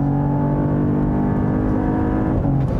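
A 2022 Cadillac CT4-V Blackwing engine accelerating on a track, a loud, steady throaty drone with rising harmonic tones, heard close and continuous throughout.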